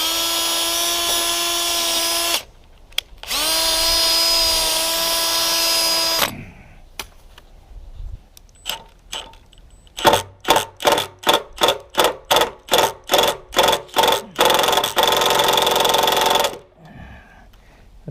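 A power drill drives screws while a boat mast is being rewired. It gives two long, high whirring runs, then a quick string of short bursts and one final steady run, all close with no talk.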